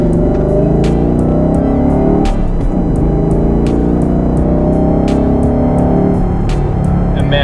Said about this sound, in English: this Corsa Sports Catback that I'm running in it right now is freaking amazing